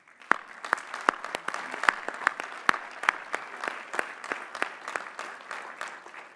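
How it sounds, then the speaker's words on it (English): Scattered applause at a graduate commencement ceremony greets the master's degree recipients, a thin run of distinct, fairly quiet claps from a modest crowd in a large hall, heard alone without talk. "Please recognize the master's degree recipients with our hearty congratulations and applause."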